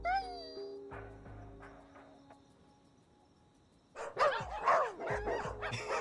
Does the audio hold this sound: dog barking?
yes